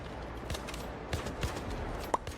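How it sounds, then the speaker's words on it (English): In Arc Raiders, a player empties a full magazine, giving a quick string of muffled gunshots in close succession over a short burst. No voice is heard over the shots. "What they're doing is they're emptying a full mag."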